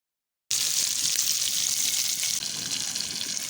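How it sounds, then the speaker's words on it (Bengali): Shrimp tipped into hot oil with cumin seeds for Bengali mustard shrimp: a loud, steady hiss of frying starts suddenly and keeps sizzling close up, with no talking. "প্রথমে জিরে ফোড়ন দিলাম, চিংড়ি মাছটা ঢেলে দিলাম"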